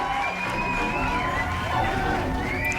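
A studio crowd cheers and shouts continuously at the opening of a live game review show, a dense, steady roar of many voices at fairly close range with no single voice standing out.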